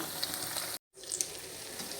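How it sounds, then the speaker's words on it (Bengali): Eggplant fritters frying in hot oil, a dense, even hiss with small pops, close and fairly quiet, broken by a brief silent gap partway through. "পেঁয়াজগুলো ভাজা শেষ করে নিয়ে এই যে এখন আমি বেগুনিগুলো ভেজে নিচ্ছি।"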